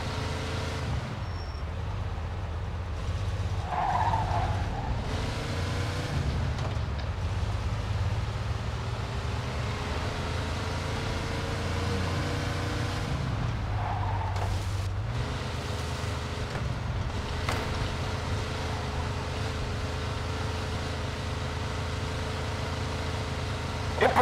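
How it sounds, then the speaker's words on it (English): A car engine in Mafia II drones steadily at speed through a police pursuit, its pitch rising and falling with shifts and tyre noise, and brief thumps stand out near the middle. "Pursuit of a speeding vehicle"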